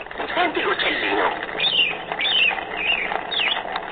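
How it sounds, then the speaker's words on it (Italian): A 1989 Mattel See 'n Say farm toy plays electronic bird chirps, a series of short tweeting calls with a tinny, thin quality, heard close up. "Senti l'uccellino."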